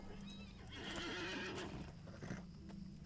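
Horse in The Lord of the Rings Online whinnying over a steady clip-clop of hooves while being ridden, the neigh rising clearly in the middle before the hoofbeats carry on.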